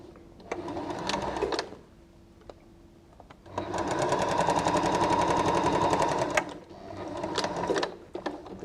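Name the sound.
sewing machine stitching quilt pieces together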